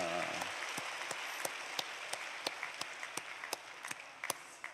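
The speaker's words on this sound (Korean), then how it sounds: "우리 앞에 있는 우리 어린 친구들 위해서도 박수 한번 치겠습니다" A church congregation at a special early-morning New Year service applauds for the children, a roomful of steady, evenly spread clapping heard from a distance, with a few louder nearby claps standing out.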